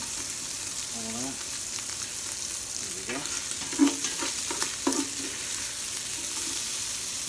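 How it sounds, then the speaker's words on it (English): Onions fry in oil and meat juices for chili, a steady close hiss with occasional stirring scrapes and a brief clink. "You want that good oil and juices down there. That's gonna help cook our onions"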